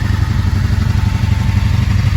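Steady low, throbbing idle of two 1995 Honda Shadow VLX motorcycles, loud and close, with an even pulsing rumble and no voices.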